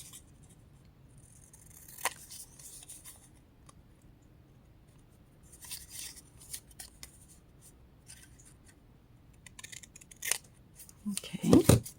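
Scissors snip through a sheet of patterned paper while trimming a little off each end for handmade cards, a few soft cuts spread out and a louder, closer burst of snipping at the very end.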